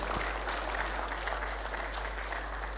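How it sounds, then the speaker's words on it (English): Steady audience applause at a ministerial press briefing in Abuja, dense and continuous throughout at a moderate distance, with no voices over it. "I believe we can make the applause a bit louder."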